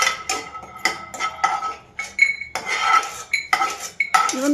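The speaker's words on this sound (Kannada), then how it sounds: "ಈ ಶೇಂಗಾ ಕಾಳು ಮೀಡಿಯಮ್ ಉರಿ ಇಟ್ಕೊಂಡು ಚೆಂದಾಗಿ ಹದವಾಗಿ ಹುರ್ಕೋಬೇಕು" Peanuts dry-roast in a pan over a medium flame and are stirred in repeated bursts of rattling, clattering kernels and metallic clinks against the pan, with short pauses between bursts and no talking.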